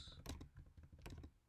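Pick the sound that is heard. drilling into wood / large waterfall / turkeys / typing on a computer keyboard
typing on a computer keyboard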